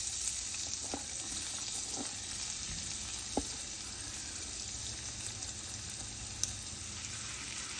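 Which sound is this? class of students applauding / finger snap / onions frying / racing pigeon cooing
onions frying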